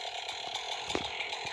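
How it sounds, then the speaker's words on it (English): A chainsaw drones with a rough, buzzing whine, steady and fairly distant, with small rattling fluctuations in its motor note. "Sorry about the chainsaw."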